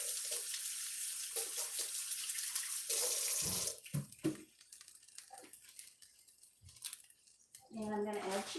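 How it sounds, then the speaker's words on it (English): Kitchen tap running while hands are rinsed during cooking; a steady hiss of flowing water that stops partway, followed by clinks and handling sounds, then water briefly runs again, with a voice speaking. "gotta rinse my hands."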